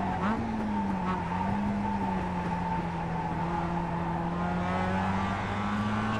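A Mazda race car in the iRacing simulator holds a steady engine drone with faint tire noise, while someone talks in Portuguese over it.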